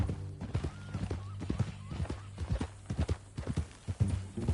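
Horse hooves clip-clop in a steady, even walking rhythm in the Red Dead Redemption 2 video game, fairly quiet and continuous over a low droning hum, with no talk.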